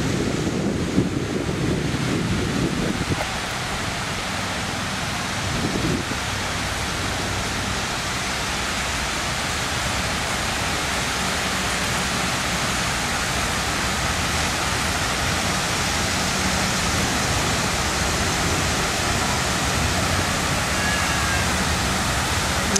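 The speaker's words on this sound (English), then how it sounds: "I'm sure you could hear the water." Steady, loud rush of running water from a fountain at Flushing Meadows Park, New York, filling the whole stretch, a constant broadband splashing roar with no pauses.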